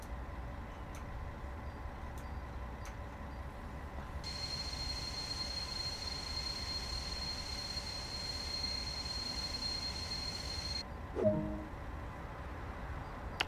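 A simulated train in Train Sim World 2 rolls along with a low rumble and faint ticking, a steady hum and a brief squeal as it slows to a stop.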